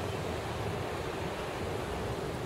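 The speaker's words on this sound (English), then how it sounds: "Oh, it's windy." Steady wind roars and buffets the microphone in a constant broadband rush in Hong Kong, with no voices.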